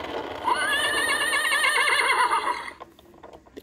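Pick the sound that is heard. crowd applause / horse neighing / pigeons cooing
horse neighing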